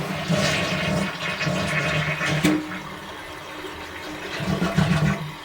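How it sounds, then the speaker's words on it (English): A household toilet flushes right after its handle has been replaced, a steady close rush of water lasting several seconds with a swell near the end and no talking over it. "let's give it a flush"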